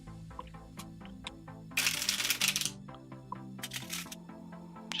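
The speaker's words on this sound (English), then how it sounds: "Just shuffling some cards while we wait." Playing cards riffle-shuffled close by in two bursts, each a dense crisp flutter ending in a soft bridge-fall, with light card taps and clicks before and after over a low steady background tone.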